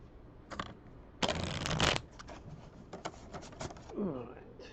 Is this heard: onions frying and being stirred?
no